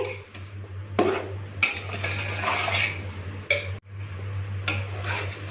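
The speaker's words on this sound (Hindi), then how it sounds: "लगातार चम्मच चलाते रहेंगे ताकि ये एक जैसी गोल्डन कलर आए, एक जैसी भूनी जाए।" A spoon scrapes steadily through semolina roasting in a pan for suji halwa, with repeated metallic scraping and clinks over a constant low hum, near and moderately loud.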